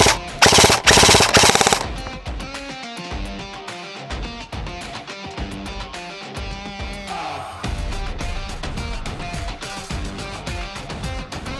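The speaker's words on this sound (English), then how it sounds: "Now I'll give it a quick full auto so y'all can hear that." Krytac MK3 SPR-M airsoft rifle firing full auto: a loud rapid mechanical burst at the start, then more bursts and clattering shots continue over a busy background.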